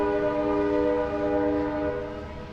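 An Amtrak San Jose train, number 525, arrives at a California station with a loud, sustained, close horn blast that fades slightly over a background rumble.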